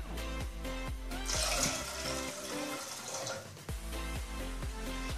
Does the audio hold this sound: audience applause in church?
no